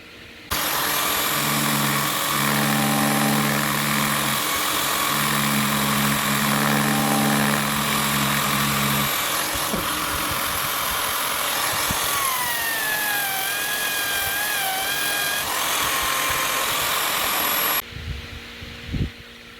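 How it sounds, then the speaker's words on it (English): Steady motorized whir of a spinning lathe runs throughout, with a rough abrasive grinding of sandpaper on a square kwila wood bowl layered on top and some rising whines midway, then it cuts out near the end. "now I'm going to do some sanding"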